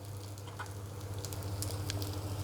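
Kebab mixture for Jain veg hara bhara kebabs, made without onion or garlic, roasting in a pan over low gas with a steady close sizzle, a low hum and scattered small pops; no talking.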